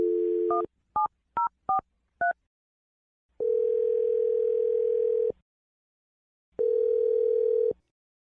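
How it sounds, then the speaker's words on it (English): A landline telephone gives a short burst of steady tone, then five quick touch-tone dialing beeps, then two long ringback tones separated by silence, all clear and close with no voices. "I'm dialing the phone number right now"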